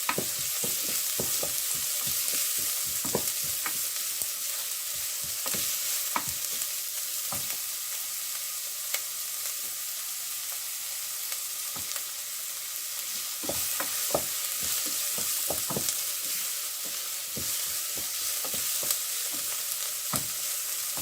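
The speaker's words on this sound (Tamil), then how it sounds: "இந்த 3ஐயும் ஒன்றா போட்டு கொஞ்ச நேரம் வதக்க போகிறேன்" Onion and chopped green chillies sauté in a pan for a Jaffna-style dried fish curry: a steady, moderate frying hiss runs throughout, punctuated by frequent sharp clicks of a spoon against the pan.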